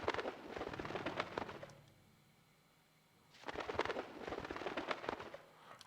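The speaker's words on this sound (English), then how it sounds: "I hear a bird fluttering." A bird flutters its wings in a cage in the video game Silent Hill, two dense bursts of rapid flapping separated by a quiet pause, close and fairly soft.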